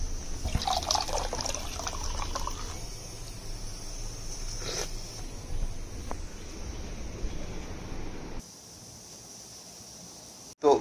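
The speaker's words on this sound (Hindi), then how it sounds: "अब इसके अंदर थोड़ा सा पानी डालता हूँ तो" Water is poured into a concentrated drink, a steady close splashing fill that runs for several seconds, then stops abruptly and leaves near quiet before a brief final clunk.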